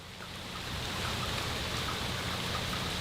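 Steady rain falls outside during a neighborhood power outage, a broad, even hiss that swells slightly at first and then holds constant, moderately loud with no voices.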